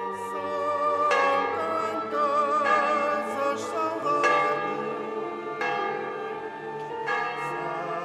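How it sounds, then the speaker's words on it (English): A parish church bell in the Azores rings out in repeated, evenly spaced strokes, each one ringing on in a rich, lingering hum that overlaps the next strike at a moderate distance. "The Church of Jesus de Pedro is ringing its bell of glory."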